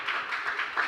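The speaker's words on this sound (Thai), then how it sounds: "ขอเสียงปรบมือหน่อยค่ะ" An audience applauds a judge at a school oral presentation event with a brief burst of steady clapping from a crowd.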